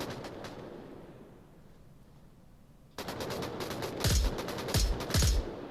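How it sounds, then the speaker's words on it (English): New weapon sounds in the VR shooter Onward on Oculus Quest: a quiet stretch, then a sudden burst of rapid automatic gunfire with several heavier, punchy shot clusters that ring out loud and close. "And the new weapon sounds."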